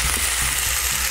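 Salsa poured into a hot frying pan of tortilla chips for chilaquiles sets off a loud, steady sizzle and crackle that fills the whole moment, with no talking over it.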